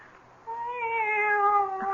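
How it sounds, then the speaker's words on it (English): One close, drawn-out meow from a cat in a radio drama, rising in strength after a quiet start and holding steady without any talk. "It's the cat. She's back."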